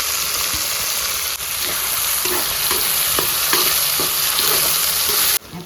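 Chopped onion frying and being stirred in hot oil for Bengali chicken biryani: a loud, steady sizzle, with repeated scraping stirs breaking through it, close up and with no voices.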